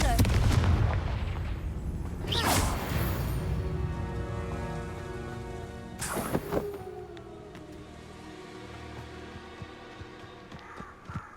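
Confringo spell blasts in Hogwarts Legacy, two loud explosive bursts a few seconds apart, each followed by ringing, decaying tones and game ambience, with crow-like caws early on.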